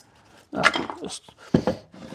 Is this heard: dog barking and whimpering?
yes